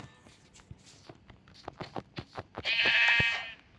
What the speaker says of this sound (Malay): Ada kambing. Hai kambing.